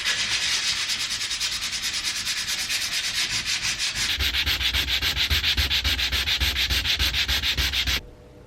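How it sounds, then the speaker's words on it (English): Fine 400-grit sandpaper rubbing steadily across a piece of new furniture in rapid back-and-forth strokes, close and continuous, growing a little heavier midway before stopping abruptly near the end. "Let me sand it down and see."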